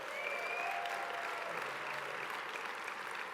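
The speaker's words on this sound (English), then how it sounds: "Please, a round of applause" Audience applause at an HRC Equality Award event fills the space in a dense, steady wash of clapping from a large crowd, continuing evenly throughout.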